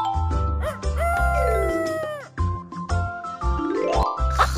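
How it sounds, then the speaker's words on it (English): Cartoon rooster crowing in a children's animal-family scene, a bright, tonal cock-a-doodle-doo layered over jingly background music with chimes, loud and close. "Mr. Rooster crows to wake everyone up at day."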